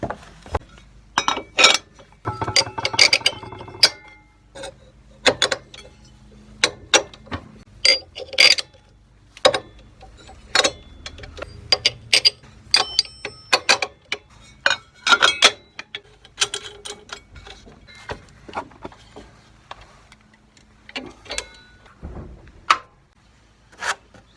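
Metal dado blades and spacers clinking and rattling as they are handled and fitted onto a radial arm saw arbor, a series of sharp scattered clanks and taps close by, some clustered, with quiet gaps between.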